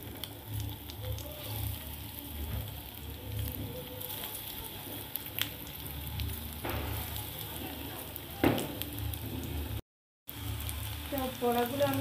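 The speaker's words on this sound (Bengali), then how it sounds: "এবার আমি এক এক করে ভেজে নিচ্ছি।" Lote fish fritters fry in hot oil in a wok, giving a constant close sizzle with occasional pops and stirring sounds and one brief silent gap.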